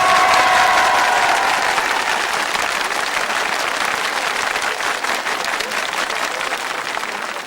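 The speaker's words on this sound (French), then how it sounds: "Applaudissez." A studio audience applauds on a 1980 Belgian television game show, a dense, steady wash of clapping that starts loud and fades slightly over several seconds, with a brief tone at the very start.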